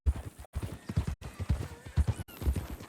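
Horse hooves clip-clopping in the video game Red Dead Redemption 2, a close, steady rhythmic run of hoof falls in quick pairs with brief gaps, loud and clear.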